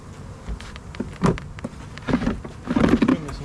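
Honey bees buzzing close by around a hive frame during almond pollination, irregular bursts of droning wingbeats rising and fading as individual bees pass near.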